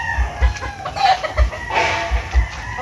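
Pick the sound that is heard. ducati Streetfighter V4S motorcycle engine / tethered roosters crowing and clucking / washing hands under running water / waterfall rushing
tethered roosters crowing and clucking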